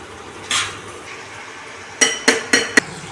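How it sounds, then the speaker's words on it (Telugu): A spoon stirs mushroom curry in a pan as the water cooks off, giving one soft scrape followed by four sharp, close metallic clinks against the pan in quick succession. "మనం ఇప్పుడు మధ్య మధ్యలో కలుపుతూ ఉండాలండి"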